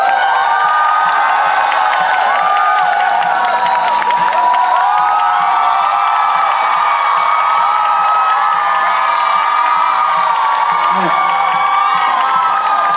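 A concert crowd of fans cheers and applauds loudly and steadily throughout an encore show in Seoul, with shouts and whoops rising over the dense roar.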